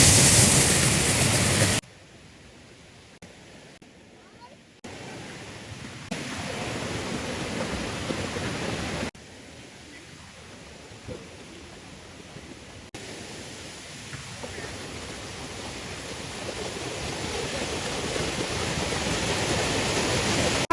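Steady broadband rush of a waterfall at a Thai waterfall park where swimming is currently allowed, a continuous roar that drops in level after a loud opening burst and then holds, with no talk.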